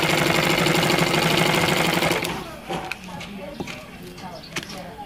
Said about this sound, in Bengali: তো সেলাই দিয়ে দিচ্ছি আমি দাগ বরাবর